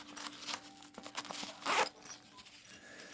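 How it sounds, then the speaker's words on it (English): Zipper on a small pocket pouch rasps open in a few short quiet pulls, ending with one longer, louder zip close to the microphone. "Then we got the top zipper."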